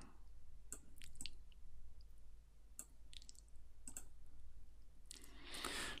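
A computer mouse clicking near a quiet workstation, several separate short sharp clicks scattered irregularly over six seconds, some in quick pairs, faint over a low steady hum.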